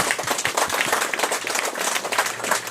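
A large audience at an IMC franchise opening ceremony claps loudly and steadily, a dense, sustained wash of applause filling the whole stretch with no pauses.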